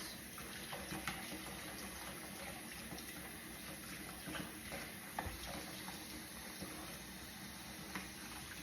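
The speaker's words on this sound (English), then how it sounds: "Making sure this is rinsed." Water runs steadily from a tap while decontaminated equipment is rinsed, a faint, continuous stream with small splashes and occasional knocks.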